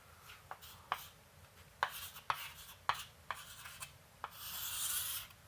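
Marker or chalk writing on a board in a lecture room: a series of short scratchy strokes in an irregular rhythm, ending in a longer continuous rubbing stroke, close and fairly quiet, with no speech.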